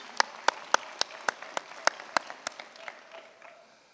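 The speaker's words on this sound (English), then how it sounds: "Another hand of applause," At a university graduation ceremony, a small group claps in a sparse, evenly spaced round of about a dozen loud claps that thins and fades out toward the end.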